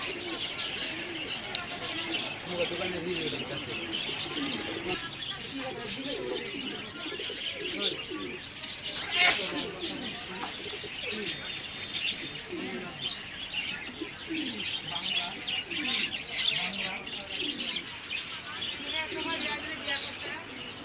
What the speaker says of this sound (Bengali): আবার আমাদের এখানে কবুতর রয়েছে